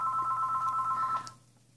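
A telephone rings indoors with a steady electronic trill, loud and close, cutting off abruptly after about a second.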